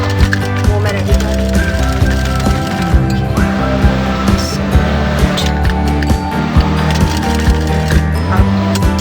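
A sewing machine stitches a trouser, a loud, close, continuous mechanical clatter with rapid rhythmic ticking that runs for several seconds without talk.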